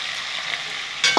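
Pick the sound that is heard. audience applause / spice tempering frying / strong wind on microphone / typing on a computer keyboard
spice tempering frying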